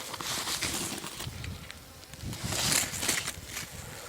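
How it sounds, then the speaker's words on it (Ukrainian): Bees drone in a soft, steady hum during a hive transfer, heard close but faint, with light rustling and small surges in loudness. "Ось ці бджоли, ось вони, ось вони де."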